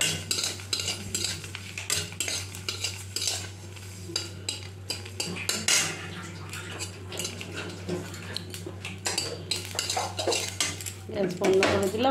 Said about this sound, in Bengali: আর একটু কালো জিরে টেলে নেব